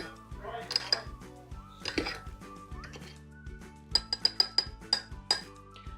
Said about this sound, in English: Just going to fold those through